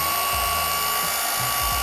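A machine polisher spins at a higher speed on car paint, giving a continuous loud whirring whine with low tones that rise and fall as the pad moves.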